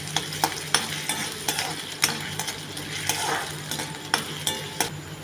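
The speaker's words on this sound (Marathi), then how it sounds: "त्यामध्ये बटाट्याची काप केलेली आपण टाकून घ्यायचे ते थोडेसे शालं फ्राय होऊ द्यायचं" Potato slices frying in hot oil in a pan, giving a steady sizzle with repeated stirring and scraping clicks from a utensil, close and moderately loud, with no talking.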